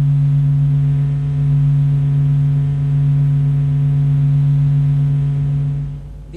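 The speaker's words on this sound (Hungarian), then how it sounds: "Ez a vibrálás hangja, melyet több ezer szeresére felgyorsítottunk." The Sun's surface vibration, sped up thousands of times, comes through as a steady, loud, pure low hum with faint higher overtones, holding evenly before fading out at the end.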